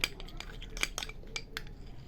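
A spoon clinks against a bowl while curd is stirred into a homemade face pack with green gram flour and coffee powder, sharp metallic taps repeating irregularly several times, close and fairly quiet.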